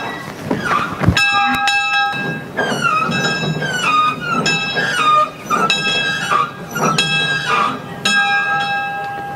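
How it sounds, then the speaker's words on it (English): A loud metallic locomotive bell clangs repeatedly in an uneven rhythm, each strike ringing briefly before the next, close by with some background rumble. "even ring the locomotive's bell"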